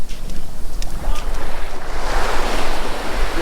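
Ocean surf washing onto the shore at a beach in Dahican, Mati City, a steady loud rush of breaking waves with wind buffeting the microphone throughout.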